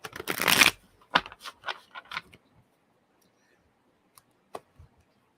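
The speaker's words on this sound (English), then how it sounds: "I'm going to be shuffling these cards up" Tarot cards are shuffled by hand in a quiet room: a dense riffling burst, then several separate crisp card slaps and taps that thin out into faint clicks and silence.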